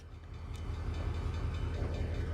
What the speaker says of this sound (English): Driving that heavy freight train today.